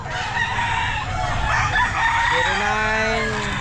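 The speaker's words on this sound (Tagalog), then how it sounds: "Yung mga manok niya." Roosters crow and chickens cluck at an outdoor pet market, a long rising crow standing out near the end over steady crowd noise and background clucking.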